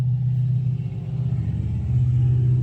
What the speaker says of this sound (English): They always do that with their big old trucks down my subdivision.